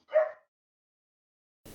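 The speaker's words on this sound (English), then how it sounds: "I heard barking." A single short dog bark or yip, faint and somewhat distant, heard once at the start and followed by silence.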